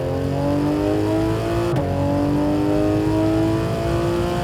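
Modified Porsche 911 GT3 RS 991.2 revving hard, a loud high-pitched screaming engine note that climbs, drops briefly at a shift, then climbs again, close and continuous without talk.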